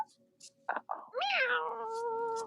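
A cat meows several times, short calls early and then a long, loud, drawn-out meow that rises and falls and holds steadily, close by with a little faint human sound between.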